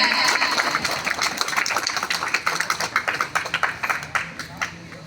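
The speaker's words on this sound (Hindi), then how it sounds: "तो सर के लिए एक बार जोरदार ताली हो जाए।" Audience applause for a school principal rings out as a steady wash of many hands clapping, strongest toward the middle, with voices faintly underneath.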